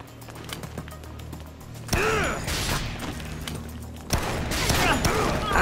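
Sniper rifle fire in the video game Dead Rising: two sharp loud shots about two seconds apart, each followed by a ringing, echoing tail, over low mechanical game ambience.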